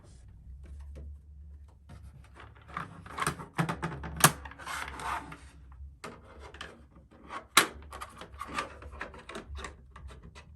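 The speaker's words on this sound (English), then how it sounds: "I can pretty much just screw this in with my fingers" A stand being screwed onto a PlayStation 5 by hand gives close rubbing and scraping plastic sounds with several sharp clicks and knocks, irregular and fairly loud, no talking.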